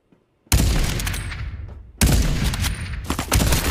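Gunfire in the Farlight 84 video game: two sudden loud volleys of rapid shots, the first starting after a short silence and the second following about a second and a half later, each sustained and close.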